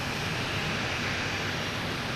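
A jet airliner roaring on takeoff at Boston Logan Airport, a steady broad rumble and hiss from some distance, with no talk.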